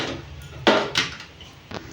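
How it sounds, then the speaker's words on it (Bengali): A metal wok is set down on a gas stove for frying fish, giving a few sharp close knocks and clanks in quick succession over a low burner hum. "গ্যাসটা অন করে কড়াইটা বসিয়ে দিই"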